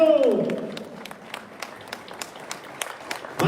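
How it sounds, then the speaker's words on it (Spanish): A church congregation claps in scattered, sparse bursts of moderate loudness. A voice rings out briefly at the start. "Fuerte, fuerte el aplauso."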